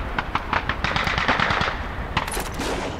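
Gunfire on the training shooting range in the video game Call of Duty 2: a rapid, steady run of close, loud shots in quick succession for about three seconds, with no talk.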